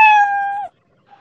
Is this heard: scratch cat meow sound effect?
yes